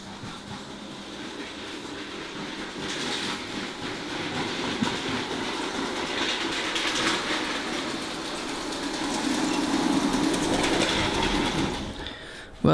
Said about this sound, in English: let's run a train and let's see how it performs